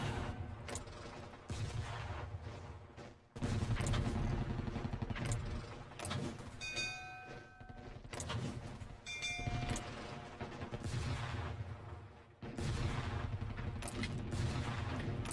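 Gunfire from attacking troops in the strategy game Conquer the World comes as sustained rattling volleys and dense crackling bursts, with short quiet pauses between waves.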